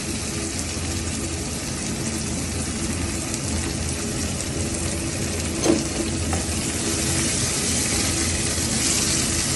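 Onion and tomato frying in a pan for cooker chicken biryani, a steady broadband sizzle that fills the whole stretch, with one brief stir clink near the middle and no talking.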